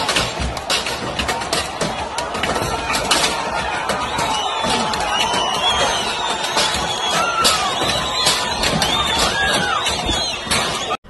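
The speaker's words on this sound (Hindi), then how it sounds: "भीड़ है जो कि आर्मी व्हीकल्स तोड़ रही है, फोड़ रही है, बहुत उत्पात मचा रहे हैं" A crowd smashing army vehicles during stone pelting, dense continuous crashing, banging and shattering with shouting voices mixed in, loud and chaotic throughout.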